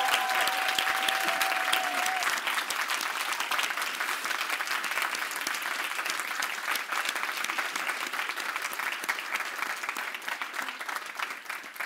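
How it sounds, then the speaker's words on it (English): An audience applauds the 2023 Solver class, a dense sustained round of clapping from a sizable crowd that holds steady and loud for about twelve seconds, with a faint tone early on. "an applause for the 2023 Solver class"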